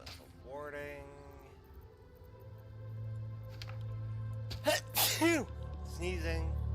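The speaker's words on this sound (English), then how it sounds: "Sneezing." A character in a fantasy role-playing video game sneezes, a pair of sharp bursts amid voiced game sounds over a steady low background hum.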